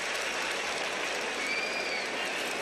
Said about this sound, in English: Crowd reacting to one of the ball kids that had trouble collecting a loose ball.